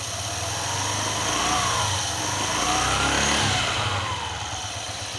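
Honda ADV 150 scooter engine running with its CVT exposed, a close steady mechanical hum that swells in two gentle revs and then settles back, with no talking.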